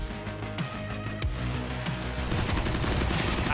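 Rapid gunfire from a Counter-Strike match in an ESL Pro League broadcast, dense overlapping shots under a constant loud background, no clear talk.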